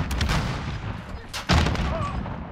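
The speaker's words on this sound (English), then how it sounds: "I'm taking fire, man." Gunfire in the video game Warzone: a few sharp shots and booms in a firefight, one heavier blast midway, set against a busy game-audio background.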